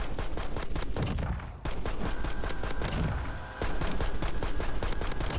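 Kilo rifle in Warzone firing single shots in rapid succession, a dense, loud string of sharp cracks with two brief pauses between volleys.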